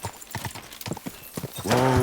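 Horse hooves clip-clop in the medieval video game Kingdom Come Deliverance II, a quick series of close, sharp steps ending in a short whinny-like tone.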